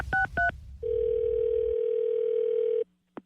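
For a radio prank call, two quick keypad beeps come first, then a steady telephone tone holds for about two seconds before cutting off, followed by a short click. All of it is clear and close.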